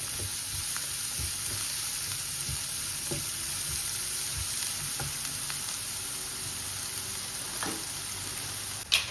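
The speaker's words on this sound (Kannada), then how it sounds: "ಸೊ ಸ್ವಲ್ಪ ಈರುಳ್ಳಿ ಕಲರ್ ಚೇಂಜ್ ಆಗೋವರೆಗೂ ಬಾಡಿಸ್ಕೋಬೇಕು." Chopped onions frying in a pan, a steady soft sizzle with occasional light stirring clicks, faint and continuous with no voices.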